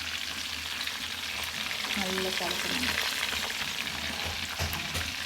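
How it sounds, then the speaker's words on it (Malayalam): Alfaham chicken fries with a continuous crackling sizzle, close and moderately loud, while brief voices speak over it. "അൽഫാം പൊരിക്കുന്ന കേട്ടോ"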